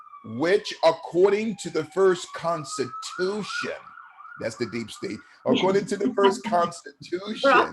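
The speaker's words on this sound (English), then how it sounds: "excuse the sirens" Emergency vehicle sirens wail faintly in the background as they pass, with rising and falling tones running steadily under a man's continuous close speech.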